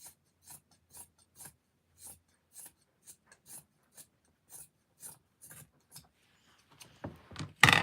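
Scissors snip through a fabric kitchen towel in a steady series of about a dozen short, close cuts, evenly spaced, followed by a louder rustle of handled cloth at the end.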